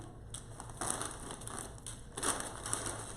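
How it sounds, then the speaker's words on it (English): Crisp crinkling and crunching of a plastic snack bag being handled close up, in several irregular bursts. "Sorry I'm making so much noise with this bag."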